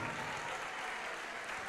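A church congregation applauding, a dense, steady wash of clapping that fills the whole moment without pause.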